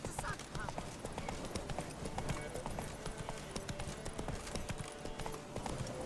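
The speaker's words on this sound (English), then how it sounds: "For some reason, my horse won't run." Steady clip-clopping of horse hooves in a quick walking rhythm continues throughout in the video game The Witcher 3: Wild Hunt, with a voice speaking over parts of it.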